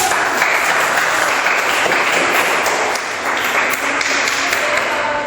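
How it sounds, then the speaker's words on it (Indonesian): Classroom applause for a student during a university teaching lesson: dense, steady clapping from many hands, loud and continuous throughout with a brief dip midway. "Tepuk tangan dulu"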